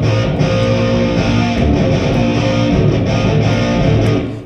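Electric guitar played through a PA with a DI and a Shure 57 mic both unmuted at once, giving a dense, loud, distorted tone that holds steadily with no talking.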